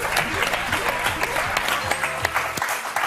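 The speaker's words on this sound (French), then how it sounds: "Laurence, on vous applaudit très fort, c'était super." A studio audience at the French TV word game show Motus applauds, a dense burst of clapping with sharp individual claps close by, continuing without a break.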